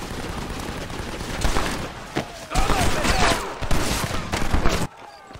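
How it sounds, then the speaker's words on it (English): Dense, loud machine gun fire from the Red Dead Redemption video game, with a continuous fusillade of rapid shots and bursts that swell and fall before stopping abruptly. "Machine gun, John!"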